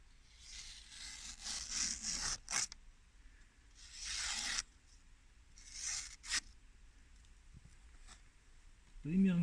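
Sakha knife blade stropped on newspaper: soft, papery rubbing and scraping strokes in irregular bursts, quiet and close.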